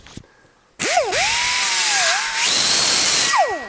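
A grinder works a butt weld on a Scout 800 metal fender. After a brief tap it spins up with a sharp whine, and the pitch dips and rises as the disc bites and eases off the steel, then winds down at the end.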